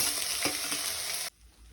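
Ginger, garlic and onion sizzle loudly in a hot pan with a steady hiss and a few soft stirring knocks, then the frying cuts off abruptly, leaving a low hum.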